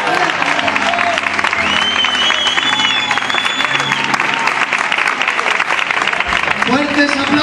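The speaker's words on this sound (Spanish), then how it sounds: "Fuertes aplausos para la gloria del Señor" A church congregation at a Good Friday service applauds loudly, a dense continuous wall of clapping with faint crowd noise and a brief low musical tone near the end.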